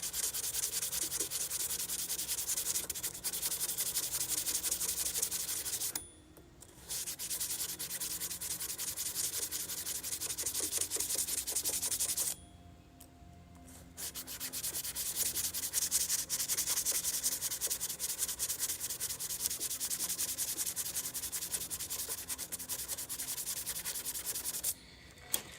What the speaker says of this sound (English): Just sand.